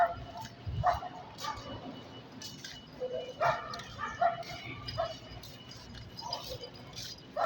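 A small dog yaps and whimpers in short, scattered bursts, fairly close, with quiet rustling and occasional voices in between.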